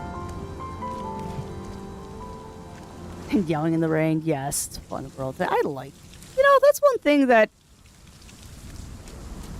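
Continuous rainfall patters on surfaces in the video game Rime, running steadily under a voice that cuts in and out.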